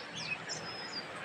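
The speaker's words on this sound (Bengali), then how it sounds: "আর পাখির ডাক এত সুন্দর" Birds, including a magpie robin, call outdoors in a village during rain, with thin high chirps and whistles over a steady soft hiss of rainfall in a short, fairly faint stretch.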